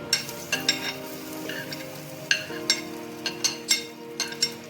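Steady sizzling of onions frying in oil, with occasional clinks and scrapes of a utensil in the pan.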